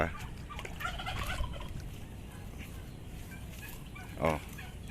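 Faint duck calls and quacking chatter over outdoor background noise near rice fields, with one louder call near the end.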